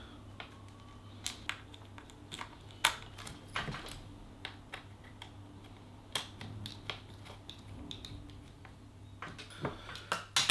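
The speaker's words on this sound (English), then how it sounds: "So I'm just going to put the screws back in." Small metallic clicks and taps come irregularly as tiny laptop screws on a Dell Inspiron 15 7590 are fitted and driven in by hand, close up in a quiet room.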